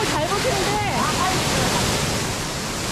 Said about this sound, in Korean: 유한폭포 최고다.